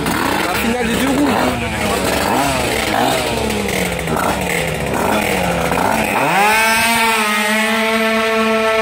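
Two drag-racing motorcycles scream close by at full throttle, their engines rising and falling together, then one sweeps sharply upward into a sustained high wail near the end.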